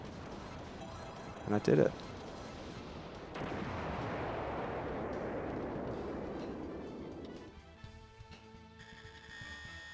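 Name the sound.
bomb explosions in video game DoDonPachi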